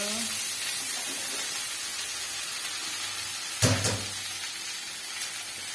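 Cabbage fries in a pan with a constant hissing sizzle, and a brief louder burst midway as it is stirred or added.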